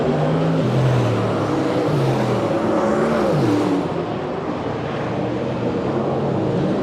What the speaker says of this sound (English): Problems again for Halley, car a little loose out of the turn.